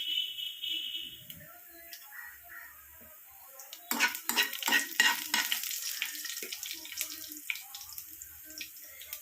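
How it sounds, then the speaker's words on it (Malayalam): Hot oil crackles and sizzles as mustard seeds hit the pan, a busy spitting pop that starts suddenly and keeps going, with a little utensil clatter. "നമുക്ക് കടുവൊക്കെ വറുത്തി എടുക്കാം"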